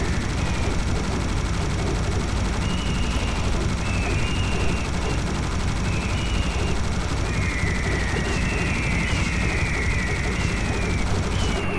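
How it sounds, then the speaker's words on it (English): Minigun fire in the shooter game Serious Sam HD: The First Encounter, a continuous dense roar of rapid gunfire with bursts of enemy and explosion noise layered over it, loud and unbroken throughout. "Just the rat-a-tat-tat of my minigun"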